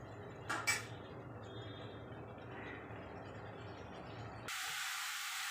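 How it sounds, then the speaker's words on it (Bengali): Potatoes and ginger-garlic spice paste fry in a pan with a faint, steady hiss. Two sharp clicks come early, and a louder rushing sizzle takes over for the last second, with no voices. "চলো এটা ভাজা ভাজা হোক"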